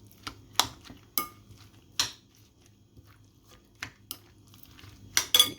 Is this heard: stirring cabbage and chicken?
yes